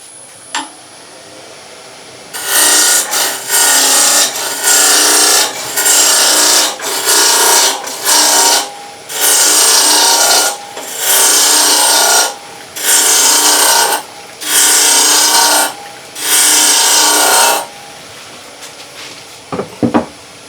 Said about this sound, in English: I'm going to use the roughing gouge